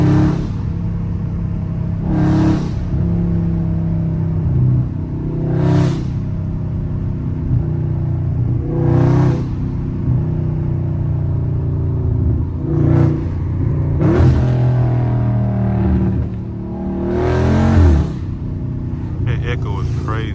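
Dodge Charger Scat Pack engine rumbling and revving hard while drifting through turns, a loud, continuous throaty roar that rises and falls with repeated rev surges, with someone talking over it.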